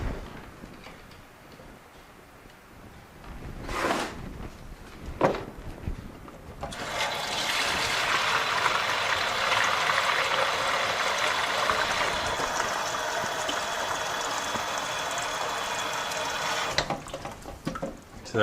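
Water runs steadily from a tap into a container to measure three liters of sanitizing solution for microgreens, a continuous rushing pour lasting about ten seconds after a few soft knocks, then stopping.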